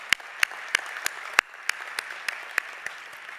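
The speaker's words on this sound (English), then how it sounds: "Please, another round of applause for our choir." Scattered applause from a commencement audience for the choir: individual claps ring out sharply about three times a second over a softer wash of clapping, nearby and steady.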